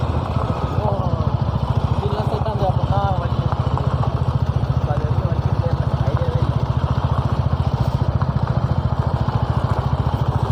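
A Royal Enfield 350 motorcycle engine thumps steadily and loudly while being ridden, its even rapid pulsing continuous throughout, with voices talking briefly over it.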